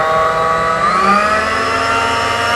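A bench drill machine's motor winds up in speed, a steady close whine with rising harmonic tones that climb in pitch over a couple of seconds, loud and alone with no talk.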